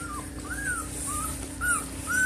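A newborn puppy gives several faint, high whimpers, short rising-and-falling cries repeated every half second or so, close by in a quiet room.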